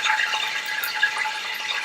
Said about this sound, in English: That's the chicken juice, kind of like water going into oil, and it's making that noise.